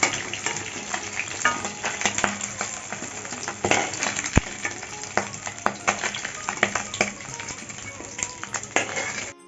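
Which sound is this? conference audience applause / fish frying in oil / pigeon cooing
fish frying in oil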